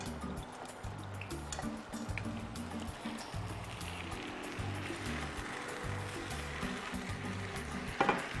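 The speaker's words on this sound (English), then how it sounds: "And put some water in. Let it simmer." A steady low bubbling and sizzle from sauce simmering with water in a pan, continuous and close, with a faint clink near the end.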